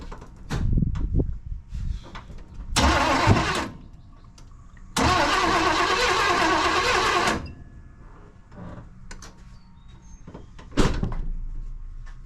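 A 1992 Chevy C1500 with a small-block V8 and throttle-body injection cranks in two bursts after a distributor install, the second one long, but the engine doesn't catch. Clunks and knocks sit between the cranking, with no voices.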